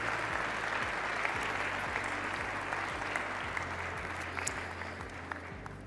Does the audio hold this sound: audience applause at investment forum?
yes